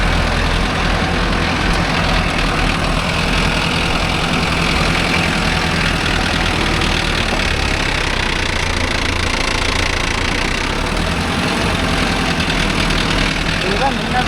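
Steady, loud diesel engine chugging from a Mahindra tractor pulling a nine-tine cultivator stays constant and close throughout, with a low rumbling drone and no clear pauses.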